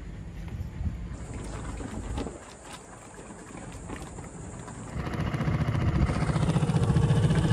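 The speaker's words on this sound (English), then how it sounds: "Hopefully the dinghy motor starts." Dinghy outboard motor running on open water near Peck Lake, Florida: a steady engine drone under wind and water noise, quieter midway, then growing louder and fuller as the motor throttles up, with no talking.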